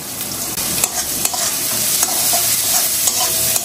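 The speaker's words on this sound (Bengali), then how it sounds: "পেঁয়াজ আর টমেটো ভাজা ভাজা হয়ে গেছে" Onion and tomato frying in a pan with salt and turmeric, a loud continuous close sizzle broken by regular scraping knocks of a spatula as it is stirred.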